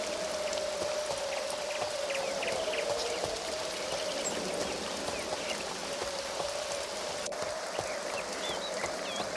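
Steady rain falls in the Two Worlds role-playing game, a dense continuous hiss of drops on the ground with faint bird chirps over it, holding evenly throughout with no voices.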